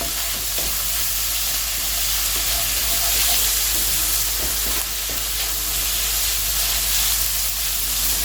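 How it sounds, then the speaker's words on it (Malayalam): Egg fried rice stir-fried in a pan over a high flame for a restaurant-style dish, with a steady loud sizzle and hiss and occasional scraping stir strokes throughout, no voices. "ഇതിനെ നമുക്ക് വീണ്ടും ഹൈ ഫ്ലെയിമിൽ ഇട്ട് മിക്സ് ചെയ്ത് എല്ലാം കൂടി ഒന്ന് യോജിപ്പിച്ചെടുക്കാം"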